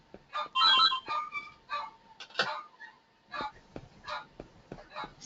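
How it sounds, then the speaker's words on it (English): Mobile phone ringtone playing in short repeated melodic bursts during a virtual meeting, close and fairly loud with brief gaps between tones. "Sorry, it was my phone."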